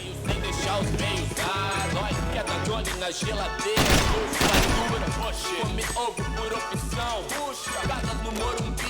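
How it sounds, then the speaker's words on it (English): Fireworks bursting during a Max Payne 3 PC level, a dense, continuous barrage of overlapping pops and booms with a louder cluster near the middle, layered over game music and ambience. "Fireworks."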